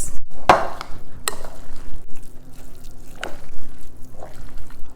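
Hash brown casserole ingredients are mixed in a bowl with a few sharp scraping knocks and softer, wet stirring sounds. The noise comes in uneven bursts, close and fairly loud, with no talking.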